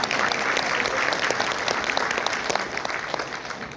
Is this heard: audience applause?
yes